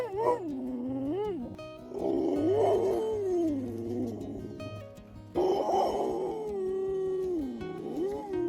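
A rescued pit bull makes drawn-out, wavering howl-like vocal sounds that rise and fall in pitch, coming in three expressive bursts close to the listener with no human speech.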